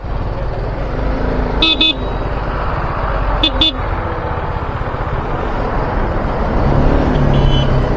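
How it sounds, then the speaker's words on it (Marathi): Heavy road traffic on a highway ride between Mumbai and Ujjain, a steady loud roar of engines with two short car-horn toots partway through and people talking over the din. "भयंकर ट्रॅफिक आहे, भयंकर."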